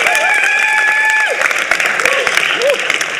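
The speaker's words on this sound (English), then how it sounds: "So big round of applause for the 3 staff members from Nigeria that are here today." Audience applause greets three staff members from Nigeria at an Africa challenge final, a steady mass of clapping with some crowd noise and tonal sounds layered over it.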